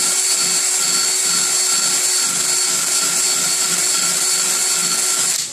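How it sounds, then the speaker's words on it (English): A drill spins a ball grinder inside the port of an Edelbrock Victor X intake manifold, giving a loud, steady high whine with a gritty grinding texture that holds without a break. "the drill on, and going slow."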